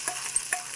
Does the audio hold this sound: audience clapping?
no